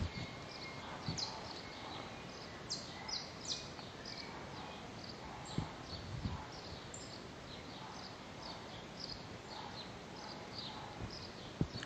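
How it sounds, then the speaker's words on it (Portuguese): A small bird chirps loudly in short, repeated high calls over a constant noisy background, with no talking. "Aí um passarinho começou a piar bem alto."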